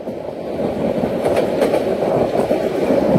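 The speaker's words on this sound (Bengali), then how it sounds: "আমাদের ট্রেনটি এখন Ghorashal rail station through pass করে যাচ্ছে" The Titas Commuter train rumbles through Ghorashal railway station, heard from inside a carriage as a steady, loud rolling roar with faint rhythmic wheel clatter.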